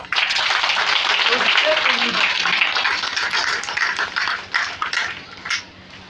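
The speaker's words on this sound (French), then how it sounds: "Je demande qu'on puisse applaudir pour les enseignants." Applause for teachers at a national teaching day celebration, a loud crowd clapping that starts strong and thins into scattered claps, with voices mixed in.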